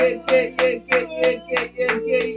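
A church congregation claps in a steady rhythm, about seven sharp, evenly spaced hand claps, close and fairly loud over sustained tones.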